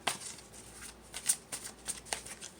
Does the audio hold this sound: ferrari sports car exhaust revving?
no